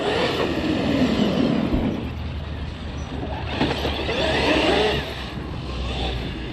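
A large electric RC car, an Arrma Outcast or Traxxas X-Maxx, whines as its motor revs hard during a wheel stand, rising and falling in surges, moderately loud outdoors without voices.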